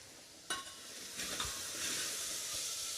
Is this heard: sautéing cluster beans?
yes